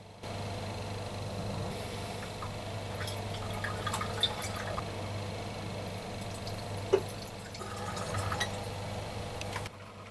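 Water pours steadily into a 1000 ml laboratory flask holding potassium permanganate, a continuous close trickle and fill sound with a few faint glassy clinks, alone with no voices.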